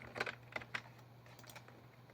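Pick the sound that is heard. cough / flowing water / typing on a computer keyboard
typing on a computer keyboard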